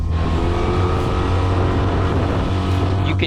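A Tohatsu 8hp outboard motor runs at full throttle on a boat, giving a loud, steady drone with a constant low hum and rushing water and wind noise underneath, heard close and without talk.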